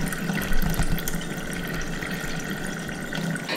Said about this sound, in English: I'm just gonna unplug this and look at all of that water coming out